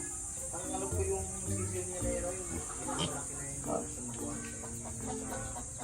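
A flock of farm turkeys calls on and off, gobbling and clucking in loose, overlapping bursts at moderate distance, with faint insects and background murmur underneath.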